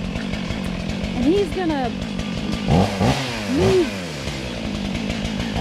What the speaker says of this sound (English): his 500 steel chainsaw